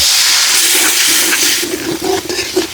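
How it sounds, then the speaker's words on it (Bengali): Water seasoned with turmeric, chili powder and salt boils in a pan for a fish curry, producing a close, steady hissing roil with bubbling pops and small surges that grow busier toward the end. "মশলা সহ পানিটা উতলেছে"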